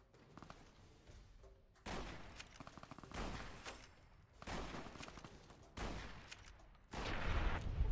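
Bursts of sniper gunfire in a video game, several loud cracks and volleys arriving in clusters with brief quieter gaps, sharp broadband blasts that fill the scene.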